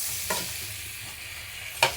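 Butter garlic shrimp fry in a pan with a steady close sizzle, two brief louder spatters or stirs punctuating the continuous hiss.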